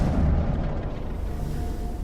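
A muffled boom in Mass Effect as an explosion blows apart cover, heavy low rumble at the start that decays into a lingering roar of debris and ambient battle noise.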